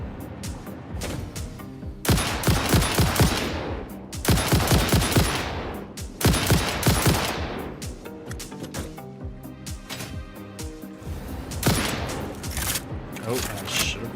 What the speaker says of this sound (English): I don't know what the range is on this rifle